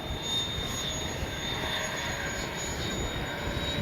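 An FMS 70mm A-10 Thunderbolt II RC model jet flies overhead, its ducted-fan engine giving a steady whining roar at moderate distance with a thin high tone throughout.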